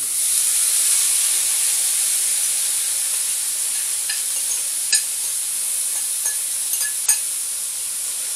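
Beef and vegetables sizzle steadily in a stir-fry pan, a dense high hiss running throughout with a few sharp clicks and pops near the end and no talking.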